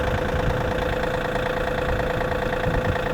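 A Kubota tractor engine runs steadily at idle on a farm, a loud, even diesel drone with a faint knocking texture and no voices.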